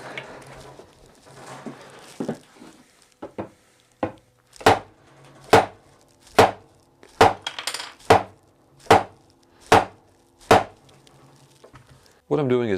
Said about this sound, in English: Now for the last leg, I need to wiggle it.